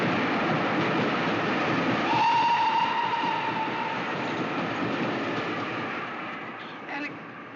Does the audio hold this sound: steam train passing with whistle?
yes